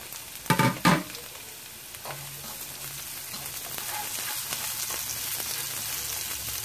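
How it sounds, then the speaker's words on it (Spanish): Onion frying in a pan for vegetarian lo mein, a steady crackling sizzle that fills the clip after a couple of louder clatters near the start, with no talking. "Ya que se suavizaron, voy a añadir la cebolla."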